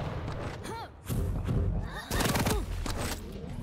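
Rockets fire and explode in a fast Quake match, a run of loud thumping blasts and bursts, close and dense, with a voice talking over the action.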